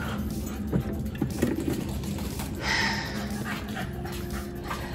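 Dogs pant steadily after a car ride on a hot day, close by and soft, with faint rustling and movement around them.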